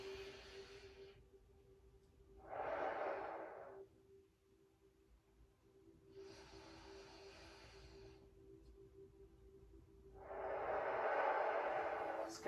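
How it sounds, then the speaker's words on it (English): Slow, deep diaphragmatic breathing, in through the nose and out through the mouth, in soft alternating breaths over a quiet, steady hum. Roughly four breaths are heard. "diaphragmatic breathing, where we're inhaling deeply through the nose and out through the mouth"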